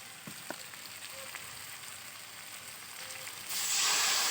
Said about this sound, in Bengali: সামান্য একটু জল দিয়ে ভালো করে কষাতে হবে।